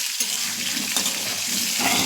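Potatoes frying lightly in a pan give a steady, close hiss of sizzling oil with faint scraping, continuous through the short stretch.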